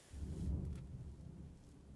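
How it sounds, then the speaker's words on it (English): Thunder rumbles overhead in a low, rolling swell that peaks early, then fades into a long, soft grumble, faint as if heard from indoors. "Was that thunder? That was thunder."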